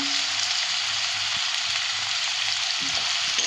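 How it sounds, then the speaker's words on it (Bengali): Salt, Kashmiri chilli and turmeric fry hard in a pan for a spicy shilbar fish curry, a loud, continuous close sizzle with a few soft stirring knocks and no talk. "ভালো করে কষে নেব"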